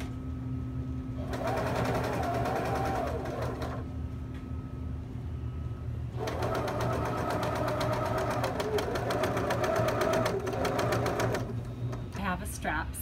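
A sewing machine stitches a bag strap in bursts, with a mechanical rattling hum that starts, pauses and resumes, close and fairly quiet, with a short lull between runs.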